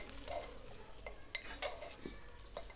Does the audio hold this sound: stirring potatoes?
yes